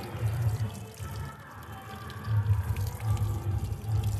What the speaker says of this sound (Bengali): এতটা জল দিচ্ছি তাও কিন্তু জল জমে থাকছে না